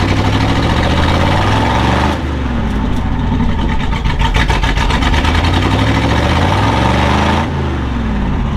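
An old 1968 vehicle with a long-unused carburetor idles loudly and close, its engine chugging low and steady with slight unevenness throughout.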